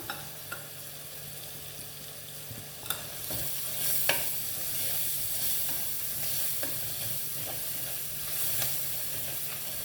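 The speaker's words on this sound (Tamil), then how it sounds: "மசாலாவோட அந்த பச்சை ஸ்மெல்லாம் போகிற வரைக்கும் கொஞ்சம் 2 நிமிஷம் மிக்ஸ் பண்ணிக்கோங்க" Masala for a Tamil-style chicken biryani fries in oil in a pan, a steady close sizzle and hiss with occasional clinks and scrapes of a spoon stirring through it.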